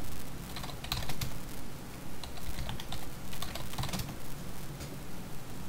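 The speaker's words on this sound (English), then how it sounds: "you type in the old password. And then your new password." Keys tapped on a computer keyboard while a password is entered at a Linux terminal, quick irregular bursts of close clicks with short pauses between them.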